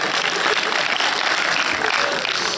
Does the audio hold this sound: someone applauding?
yes